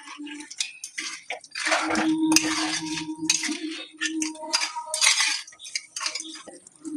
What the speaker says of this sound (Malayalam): എന്നിട്ട് നല്ലതുപോലെ ഇളക്കി മിക്സ് ചെയ്ത് കൊടുക്കാം.